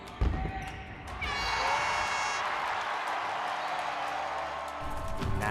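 Basketball crowd at a Dixie State college men's game cheering and applauding in a steady, broad roar that swells and holds, with a few ball bounces and sharp court sounds near the start and end.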